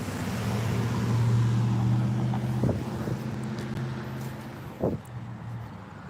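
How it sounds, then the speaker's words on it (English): A heavy vehicle engine rumbles steadily nearby, a low droning hum with a couple of brief knocks as it rolls past. "Here comes a white truck."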